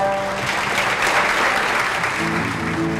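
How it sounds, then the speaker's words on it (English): An audience at a charity kids' event applauds as a country singer is welcomed to the stage, a steady wash of clapping filling the room, with sustained musical tones sounding underneath. "Don't be afraid to clap your hands."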